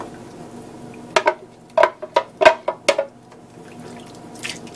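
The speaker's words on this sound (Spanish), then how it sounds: "La misma agüita le echamos para que se limpie bien el vaso" Water is splashed into a blender jar to rinse it after blending chile salsa, producing several short, close splashing and sloshing bursts clustered in the middle of an otherwise quiet moment.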